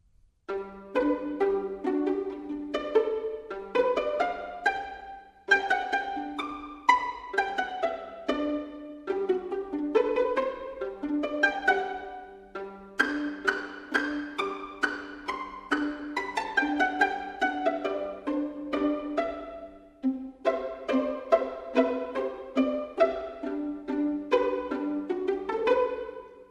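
Plucked strings play a lively pizzicato passage, short detached notes tumbling up and down in quick runs, clear and close with no voices.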